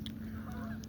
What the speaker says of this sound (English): Got geese on the river.